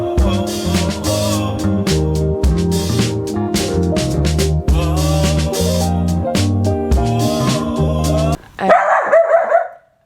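A pet dog at a home in America barks repeatedly in loud, close bursts. A brief noisy scuffle follows near the end.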